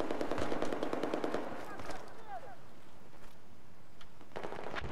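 M4 rifle fire in the Battlefield 4 video game: a rapid automatic burst at the start, scattered shots afterward and a short burst near the end, with voices faintly underneath.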